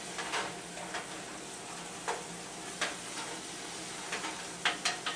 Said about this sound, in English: Okay, so we're still browning our meat.